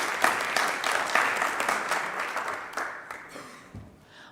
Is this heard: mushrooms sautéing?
no